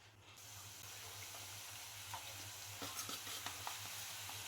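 Wheat flour gavvalu deep frying in hot oil, giving a steady soft sizzle with a low hum beneath and a few small crackles and pops toward the end, no voices.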